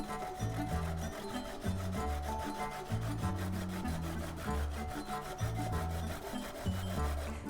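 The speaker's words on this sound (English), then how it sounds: "we're going to grate the carrots" Carrots are rubbed against a kitchen grater in quick, rhythmic rasping strokes, close and fairly quiet, repeating in short bursts with brief pauses between them.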